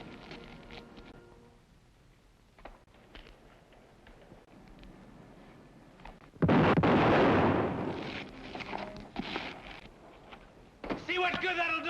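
A gunshot blast bursts loud in a western TV drama, followed by ringing echoes and further sharp reports, after a stretch of quiet ambience and faint movement.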